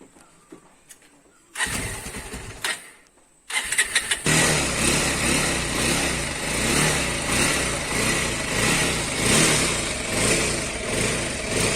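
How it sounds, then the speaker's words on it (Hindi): A motorcycle on a mountain road near a temple at Munsyari is kicked over, with a brief first attempt, then the engine catches and settles into a loud, steady close idle. "फटफटिया स्टार्ट करते हुए भानीज"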